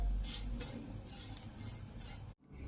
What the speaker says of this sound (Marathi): खोबऱ्याचं किस टाकून घ्यायचा, घरीच बनवलेला आहे. मस्त मंद आचेवर भाजून घ्यायचा.